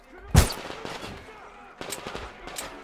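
A sniper rifle in Metro Exodus fires one loud, sharp shot early on, and a booming tail rolls after it. Softer thumps and game ambience follow, and a commentator talks quietly underneath.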